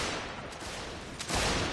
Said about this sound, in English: Whoops-a-daisy, someone fired early.